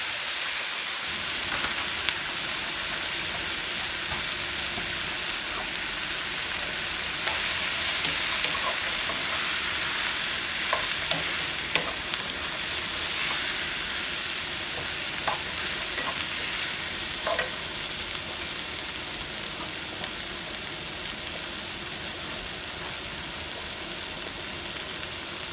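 Cauliflower rice with shrimp and whole corn cooks in a pan with a loud, dense, rain-like sizzle that holds steady throughout, broken by a few faint scrapes of stirring.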